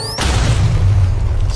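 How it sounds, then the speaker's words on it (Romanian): A cartoon explosion effect bursts in after a brief rising whistle, then a loud, sustained rumbling boom that holds steady to the end. "Efectul tău de explozie"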